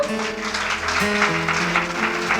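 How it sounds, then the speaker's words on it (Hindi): A church audience at a sermon claps for themselves, a steady, fairly dense round of applause throughout, with some sustained background tones beneath. "अपने लिए ताली बजाओ"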